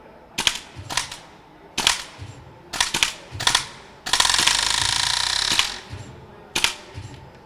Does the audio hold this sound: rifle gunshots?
yes